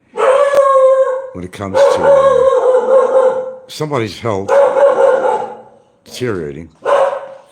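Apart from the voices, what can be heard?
dog barking and howling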